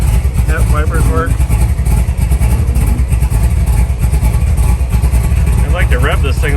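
A 1964 Chevrolet Impala hardtop with a 468 big block V8 idling while cold, its steady deep loping rumble close and loud throughout, with someone briefly talking over it near the start and end.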